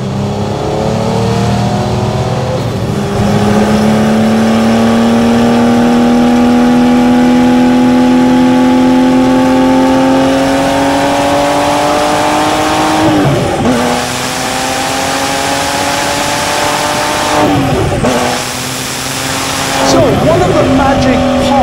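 A Guntherworks Turbo car with no muffler accelerates hard through the gears, its loud raw engine note climbing in pitch between sharp shifts, with a voice talking over it.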